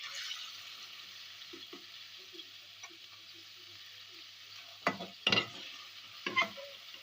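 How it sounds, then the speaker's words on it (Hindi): Onions fry in a pan with a soft, even sizzle, then a utensil stirs and knocks against the pan in a few louder, close bursts near the end. "तो अब हम इन प्याज़ों को फ्राई कर लेते हैं।"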